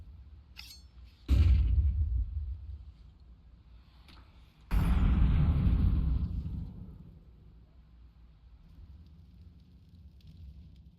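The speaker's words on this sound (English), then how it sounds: "And a hefty nade onto Bobs on Recon." Two heavy grenade blasts in a competitive Counter-Strike-style match, each a sudden loud boom with a rumbling tail that fades over a couple of seconds, preceded by small clicks and with faint ambient game sounds between.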